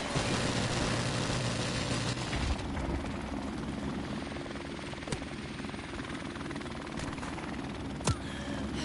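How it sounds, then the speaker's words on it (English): An attack helicopter in Call of Duty: Modern Warfare Remastered thumps and whines loudly and steadily throughout, with a few sharp gunfire cracks cutting through the rotor roar. "Comes the helicopter to kill me 15 times."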